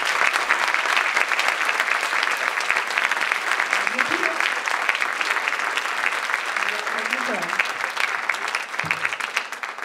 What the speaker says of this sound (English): Let's give another round of applause for these kids.